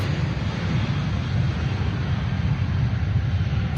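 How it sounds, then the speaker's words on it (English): Steady low rumble of distant airplanes near an airport droning in the background, constant and unbroken with no voices. "you probably hear the planes in the background."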